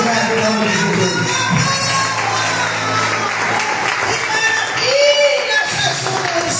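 A church congregation applauds and cheers together, a steady wash of clapping and crowd voices with a speaking voice running over it throughout.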